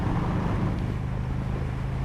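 A Harley-Davidson motorcycle with a Power Vision tuner pulls a sixth-gear roll-on, a steady low engine drone under heavy wind rush, loud and continuous.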